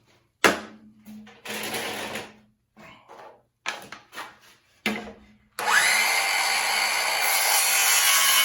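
Wood for a tote box is cut by hand with short rasping saw strokes in separate bursts, then a steady, louder continuous cutting sound takes over near the end.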